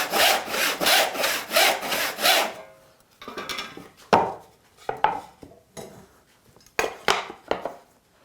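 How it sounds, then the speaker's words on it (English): Hand saw cutting a wooden board, a steady run of about seven rhythmic rasping strokes followed by scattered lighter scrapes and knocks, close and clear with no talk. "allow you to make that cut and just let the saw do its work"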